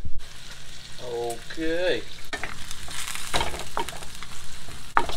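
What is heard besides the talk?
bacon sizzling in a frying pan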